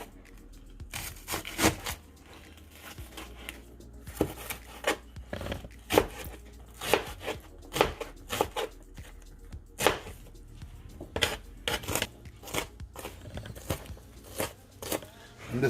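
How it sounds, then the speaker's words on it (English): Knife chopping an onion on a cutting board for beef stew, a steady series of sharp close taps with irregular spacing, alone without talk. "Now I'm gonna start with cutting up the onion."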